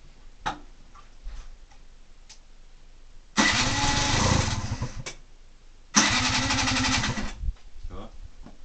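Yamaha TZR 4YV two-stroke motorcycle engine with an oversized carburetor jet being kicked over. Two loud rough bursts of cranking and sputtering fail to catch, separated by quiet gaps with faint ticks and handling noises.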